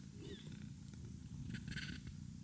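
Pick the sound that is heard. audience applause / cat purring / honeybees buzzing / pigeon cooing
cat purring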